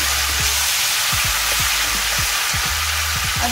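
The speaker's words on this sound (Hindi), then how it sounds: "और इसके अंदर हम चिकन डाल रहे हैं, चिकन डाल देंगे और ये तेल के अंदर अच्छे से" Chicken pieces frying in hot oil for chicken Bihari, a steady close sizzle with faint stirring clicks throughout.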